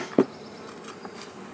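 Honey bees buzz in an opened hive during a colony split, a faint, steady drone that holds throughout with one brief louder burst near the start.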